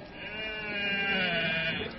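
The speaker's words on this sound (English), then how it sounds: "And little Bo Peep was busy watching her sheep" A sheep bleats in one sustained, wavering cry lasting about two seconds, loud and close, with no talk over it.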